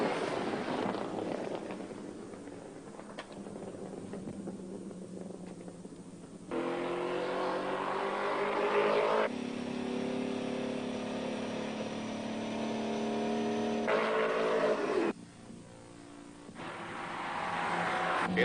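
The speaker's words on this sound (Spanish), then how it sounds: "ya tenemos al Porsche acercándose sin dificultad" A Porsche race car drives on a track, its engine droning steadily at mid distance with a rising, sustained note through the middle, rough and fluctuating at the start and end.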